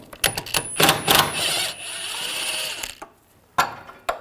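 A hand ratchet fitted with a 13mm socket works a mount nut loose on a 2007-2013 BMW 328i 3.0L inline-six, giving close bursts of quick metallic clicking broken by short pauses and a couple of sharp knocks near the end.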